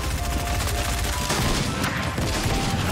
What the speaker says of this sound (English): That SMG missed way too many shots to be that close